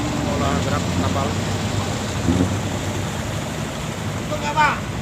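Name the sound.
squid fishing boat engine while the captain maneuvers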